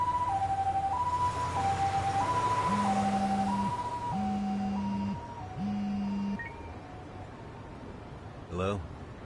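Ambulance siren in the Lost Judgment video game, wailing in a steady two-tone rise and fall. It stays loud throughout under a low engine rumble with voices, and three deeper sustained tones sound midway.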